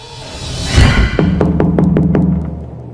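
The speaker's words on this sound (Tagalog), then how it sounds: "nang marinig ko ang malakas na katok dahil sa pagdating ng aking mga magulang" A horror-story sound effect of loud knocking on a door: about five sharp, evenly spaced raps over a low steady hum, close and prominent.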